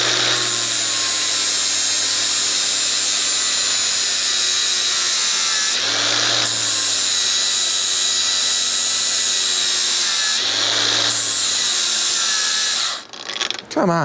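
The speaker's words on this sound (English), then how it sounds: "Maybe I can lay this out and just cut some grooves in there with the flap disc." An angle grinder with a flap disc cuts grooves in metal, a loud, close, continuous grinding whine broken by two brief dips in pitch before cutting off near the end.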